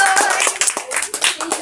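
Clapping from a group at a village arm-wrestling contest, a brief burst of uneven hand claps with voices mixed in close by.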